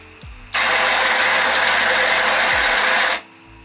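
A Casabrews 5700GENSE all-in-one espresso machine grinds coffee beans for a double shot, a loud, steady whirring buzz starting abruptly and lasting about two and a half seconds before cutting off.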